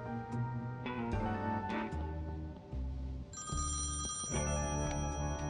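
A telephone rings repeatedly inside the Thimbleweed Park adventure game, its bell tones sitting over steady background game music and sound effects, loud and close.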